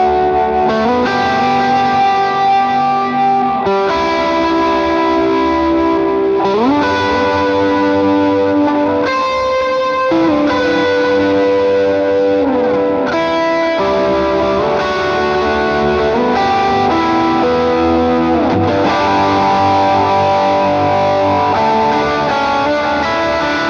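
Electric guitar playing a single-note lead through a Fender Tonemaster Pro with a spacious, celestial reverb, notes ringing out and blooming into a lush wash, loud and continuous with sustained tones and echoing tails.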